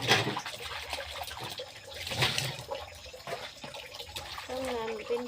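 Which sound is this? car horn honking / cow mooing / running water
running water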